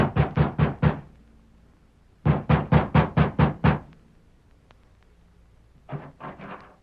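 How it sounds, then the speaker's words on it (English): Knuckles rapping on a ranch house door, three bursts of quick knocks, five then six then a softer few, close and crisp with quiet gaps between. "Sheriff Ramsey has just dismounted before the ranch house of Alva Carlson and is knocking at the door"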